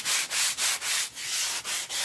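Sandpaper rubs back and forth over a dried stencil texture on a wall, about eight rhythmic scraping strokes with brief pauses between them, close and fairly loud, with no voices.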